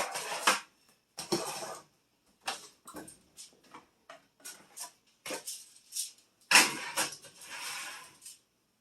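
Sheet pan of pork placed into an oven preheated to 350 degrees. Several separate metallic clanks and rattles from the pan and rack are heard, close and sharp, with quiet gaps between them.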